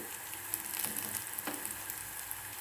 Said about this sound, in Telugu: నేను ఇలా బాగా ఎర్రగా వేయించి పెట్టేసుకుంటాను ఇవి ఎన్ని రోజులున్నా కూడా పాడబోవు వేగుతున్న ఉల్లిపాయలు